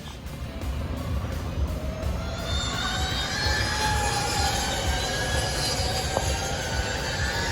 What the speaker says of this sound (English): Just listen to these electric bikes